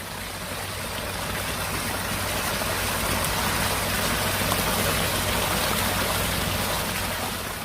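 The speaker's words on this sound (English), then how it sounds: "That is rain sound." Steady rain falls in a dense, even hiss of patter on a surface, constant and moderately loud throughout with a low hum beneath.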